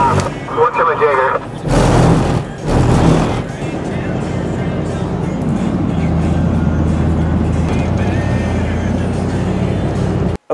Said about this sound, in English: right now we're driving across a frozen lake, and it has islands on it